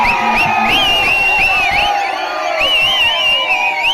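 Crowd cheering and whooping at an election campaign rally in Viralimalai, a dense continuous roar with high shouted voices rising and falling throughout, loud and close.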